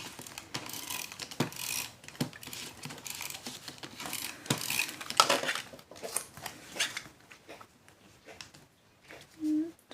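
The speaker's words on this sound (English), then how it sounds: "I'm just going to bring in my tape runner" A tape runner lays adhesive onto a handmade card in a series of close, scratchy mechanical clicks and rolling rasps, with a quiet pause before a short final burst.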